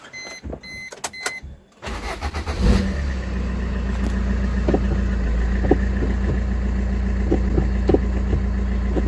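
A Maruti Swift with a gearbox fault, fifth gear not engaging, starts up after a few clicks and clunks, then settles into a steady close idle with occasional small knocks.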